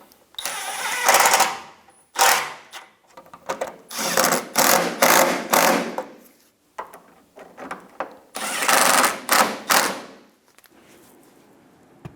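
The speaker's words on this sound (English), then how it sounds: "Install the fender liner into the little clip and install your 10mm screws." A ratchet drives 10mm screws into the inner fender liner of a 2000-2006 Toyota Tundra, loud close bursts of rapid clicking repeated in several runs with short pauses between.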